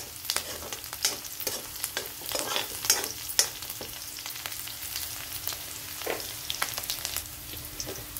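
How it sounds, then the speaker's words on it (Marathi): Green chillies sautéing in a pan for sabudana khichdi: a soft sizzle broken by frequent sharp spatula clicks and scrapes, close and irregular. "आपली मिरची पण अशी छान परतून झालेली"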